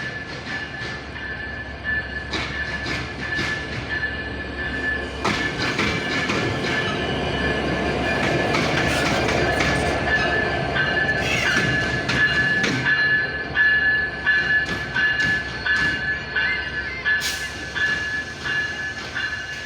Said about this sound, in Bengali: এই লোকোমোটিভটা কিন্তু আজকে থাকতেছে লং রুটে পঞ্চগড় এক্সপ্রেসে। এটি 2 নম্বর প্ল্যাটফর্মে যাচ্ছে।